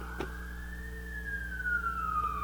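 A single wailing siren glides up and then slowly falls in pitch, steady and fairly clear over a low rumbling hum, with no one talking.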